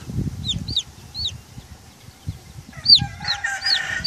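Newly hatched blue American Marans chicks in a homemade Sportsman incubator and hatcher give repeated high, sweeping peeps over a low background rumble.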